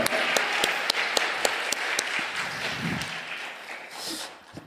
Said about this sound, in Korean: 감사의 박수로 하나님 영광의 박수 올립니다